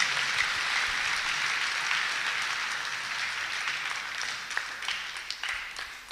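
An audience in a church setting applauds with dense, sustained clapping that fills the whole stretch, thinning slightly and turning into scattered individual claps near the end.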